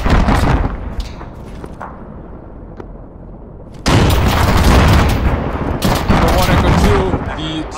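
A frag grenade bursts during a convoy ambush in a military shooter game, a sudden heavy boom that cuts through quieter battlefield noise and leaves loud sustained rumble and crackling gunfire afterward.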